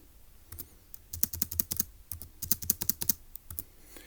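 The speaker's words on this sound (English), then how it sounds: "So let's type that up." Rapid, uneven bursts of key clicks on a computer keyboard as a puzzle solution is entered, close and crisp, in short clusters with brief pauses and no talking.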